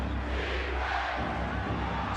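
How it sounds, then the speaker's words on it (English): A packed basketball arena crowd at a 1995 NBA playoff game between the Pacers and Knicks roars in a dense, sustained wall of cheering, loud and continuous throughout. "Crowd is in it for one of the few times today."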